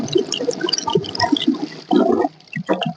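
Running tap water splashing as skin is rinsed on both sides, steady wet rush with a louder burst near the end, close by.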